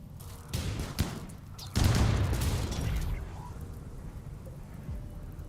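In the video game RimWorld, thunderbolt strikes set off a few sharp cracks that swell into a loud rumbling boom, which then fades into a long, faint roll of thunder.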